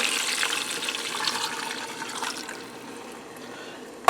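A 14.5-ounce can of beef broth poured into a pressure cooker over a browned pork roast: a steady liquid gush that thins and fades after a few seconds, close, ending with a small clunk.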